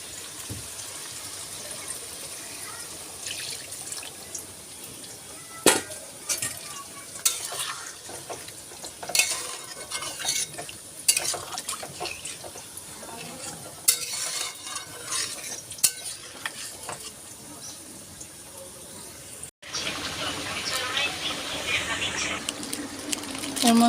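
Chicken curry with potatoes simmering in a pan, a low bubbling sizzle with intermittent stirring scrapes and utensil clinks, fairly faint throughout and growing a bit louder near the end.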